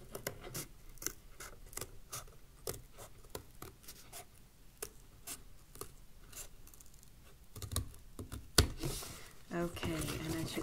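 Scissors trimming around a paper circle, repeated short snipping cuts in an uneven rhythm, close and fairly quiet, with a voice talking over them.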